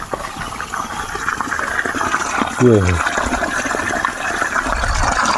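Water gushing out of a pipe in farm fields beside a pond, a loud continuous rush with someone speaking briefly over it midway.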